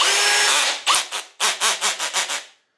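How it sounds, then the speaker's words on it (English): Milwaukee M18 FUEL brushless hammer drill with its chuck held by hand on the lowest setting, the motor straining in a loud sustained grinding burst, then a series of rhythmic ratcheting pulses that stop abruptly, with no talk. "it's going to continue to try to turn the chuck, and you're going to hear a lot of noise"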